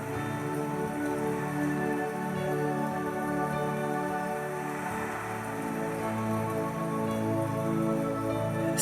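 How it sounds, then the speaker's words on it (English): Fat raindrops fall steadily near a beach hut, a continuous dense patter blended with a sustained tonal music bed underneath, even and unbroken throughout. "Fat drops of rain begin to fall"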